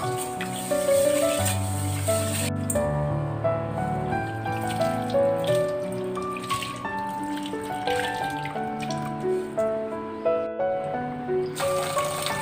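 Tap water running into a container of mung beans set to soak for sprouting, a steady splashing flow with shifting tones as it fills, close and alone over faint background music.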